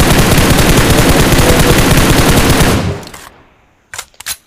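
Loud sustained automatic gunfire in PUBG hammers close by for nearly three seconds, then cuts off; a few isolated sharp shots follow after a brief quiet.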